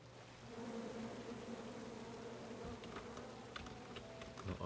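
Bees buzzing in the video game King's Quest: A Knight to Remember, a faint steady insect drone with soft background ambience throughout.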